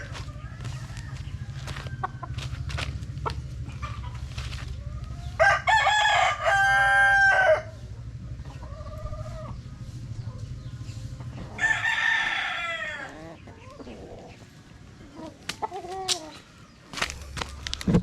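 An Albany Sweater gamefowl rooster crows twice in a backyard, each crow loud and drawn out, with clucks and faint bird calls between them over a steady low hum.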